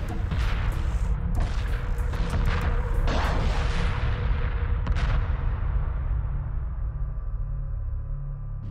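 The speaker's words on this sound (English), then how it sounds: "Let's look at some pretty explosions." Explosions from a space battle in Homeworld Remastered, a dense rumbling barrage of booms and blasts with sharp cracks in the first half, easing into a steady low roar that fades at the end.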